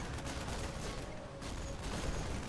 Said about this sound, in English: The explosion. The widow mine.